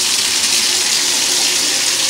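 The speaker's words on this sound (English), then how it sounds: "Tub is running good." A bathtub faucet runs steadily during a move-in walkthrough, a loud, close, continuous hiss of pouring water with no break.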